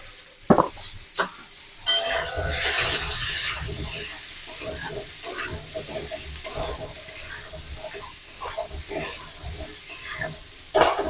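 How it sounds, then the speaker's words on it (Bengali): Potatoes fry in a pan with a steady crackle, punctuated by occasional clinks and stirring sounds. "যতক্ষণ আলুটা ভাজা হচ্ছে"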